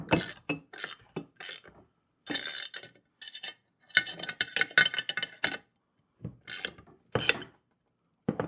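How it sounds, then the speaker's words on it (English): A wrench ratchets on bolts while a heavy-duty four-wheel garden dump cart is assembled, giving bursts of quick metallic clicking and rasping strokes separated by short pauses, close and fairly loud with no voices. "let me get another wrench so we can tighten it down a little bit better"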